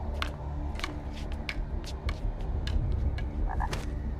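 Frogs croak in a rapid chorus of sharp, clicking calls repeating irregularly over a steady low background hum.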